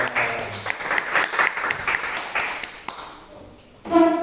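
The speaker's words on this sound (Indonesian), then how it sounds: "Tepuk tangan Ajeng." Clapping from an audience at an open class on coding and artificial intelligence rattles along for a few seconds, fading out before a voice starts speaking near the end.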